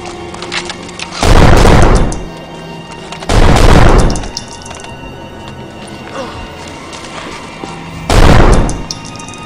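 Three loud, heavy gunfire bursts, each lasting about a second, crack out over a background of rustling and faint distant noise in a wooded combat setting, with long gaps between them.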